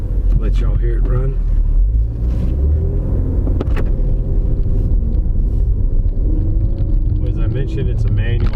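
A Ford Focus ST with a manual gearbox is driven along a road. Its engine gives a steady, close, low rumble throughout, mixed with road and wind noise.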